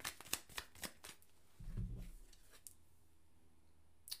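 A deck of tarot cards shuffled close by in a quiet room: a run of crisp riffling clicks, then a softer, fuller burst of cards sliding together, followed by a final faint flick.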